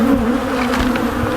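Agitated honey bees buzz at an opened hive full of honey stores, a dense, continuous high-pitched drone close up that holds steady and loud without pause.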